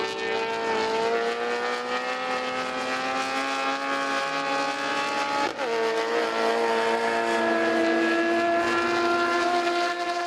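A BMW 116i race car with a 3-liter N52 B30 inline-six engine sings loudly at sustained high revs, one steady harmonic howl with a brief blip around a gearshift, racing at Lime Rock Park.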